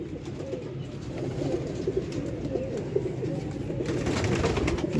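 A flock of pigeons kept for sale, including a powerful female bird, cooing steadily in low repeated murmurs that blend into a continuous close-up drone with no one speaking.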